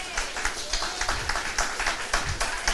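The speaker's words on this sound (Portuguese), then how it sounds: "Eu gostaria que você aplaudisse a Jesus." A church congregation claps for Jesus during a service, a room full of irregular, fairly close hand claps that keep going steadily.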